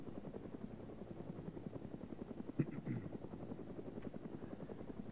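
A combat helicopter in the ArmA 3 military game gives a steady, fairly faint rotor thump that pulses evenly throughout, with a brief sharp knock midway and faint voices barely present.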